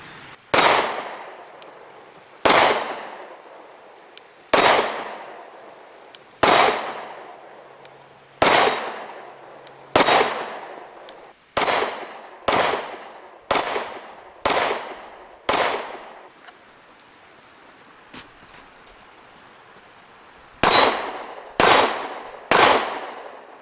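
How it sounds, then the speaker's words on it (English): Pistol shots fired at an orange 10-inch steel gong 10 to 15 yards away, about fifteen sharp bright clangs with ringing decay, spaced a second or two apart with a short pause before a final quick burst of three. "It's just an orange 10-inch gong."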